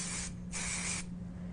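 Kenra dry texture hair spray hisses in two short aerosol bursts close by, applied into a ponytail at a styling session, with a low steady hum underneath and no talking.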